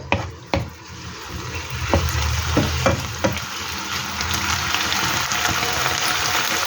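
Pork skin and chayote fry in a pan with a steady, close sizzle, broken by several sharp clacks of a utensil stirring the pan.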